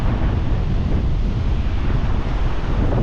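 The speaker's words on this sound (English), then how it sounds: "there's no shelter here out of this wind tonight" Strong wind buffets the microphone on an exposed seaside beach at Hastings, a loud continuous roar with deep low rumble and surf-like wash throughout and no voices.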